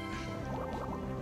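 Water Pulse attack in Pokemon Ruby, a short, bubbling, watery burst with wobbling gurgles over a steady game backdrop, lasting around a second.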